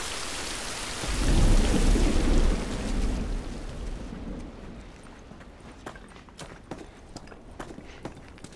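In The Last of Us Remastered, a deep thunder rumble swells and rolls for a few seconds, then fades into steady rain pattering on surfaces, with scattered sharper drips standing out near the end.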